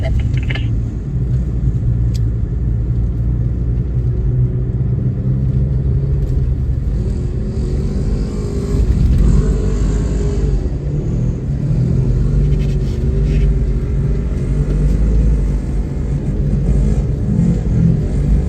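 A 2022 Nissan Xterra driving on desert sand in the UAE at about 40 km/h with tires aired down to 12 PSI, giving a steady loud engine drone and low road rumble throughout, with no voices.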